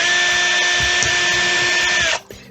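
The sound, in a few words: power drill drilling through melted plastic buttons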